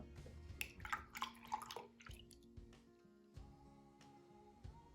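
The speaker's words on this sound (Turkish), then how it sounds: "şimdi bardağıma soğuk süt ekleyeceğim ben" Cold milk pours into a glass beside a Nespresso Atelier S85 coffee machine, a short trickling, splashing stream near the start that settles into faint drips and quiet kitchen ticks.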